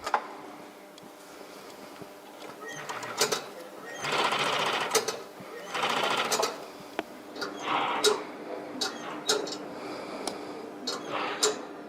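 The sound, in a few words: Strobel sewing machine stitching running shoe upper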